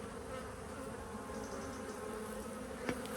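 Honeybees hum in a steady, close drone while a hive is opened and its frames inspected, with a faint click near the end and no talk over the buzzing.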